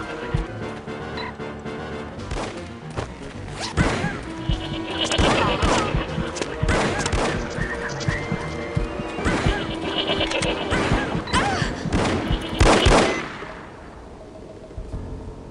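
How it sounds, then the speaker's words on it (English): Gunfire in the spy shooter game No One Lives Forever, bursts of shots and crashing impacts over steady game background and music, loud and close, ending with a quieter stretch. "Ich werde jetzt mal probieren, ihn so runterzuschießen, dass wir nur einen Schuss brauchen."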